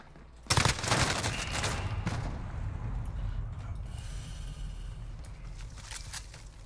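Gunfire from a PP19 Bizon submachine gun in Modern Warfare starts with a sharp burst, then continues as sustained rapid firing and dense background battle noise for several seconds, with no talking.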